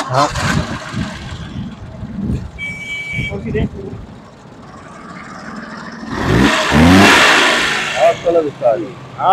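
A restored Suzuki FX car engine turns over on self-start and revs up, rising to a loud, steady rumble that dominates the second half, with voices talking over it earlier.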